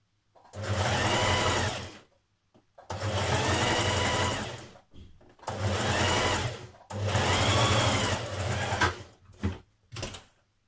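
A sewing machine runs a bomber jacket side seam in four long, steady bursts of close stitching, separated by short pauses, with a couple of quick final runs.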